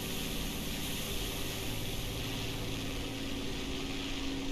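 Several WWII Mustang propeller fighter planes flying in the Garry's Mod game, heard as a steady, dense droning engine roar that holds level throughout with no talk.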